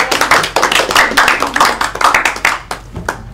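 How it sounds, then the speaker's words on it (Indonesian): Lively applause from a small group of students in a classroom, steady hand clapping that carries on for a few seconds before thinning to a few last claps. "Tepuk tangan buat Balkis."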